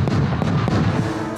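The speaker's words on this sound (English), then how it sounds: "It shoots the shell out of the gun." Fireworks mortar tube firing a shell at a pyrotechnics site, heard as a series of deep booming thumps close by in quick succession.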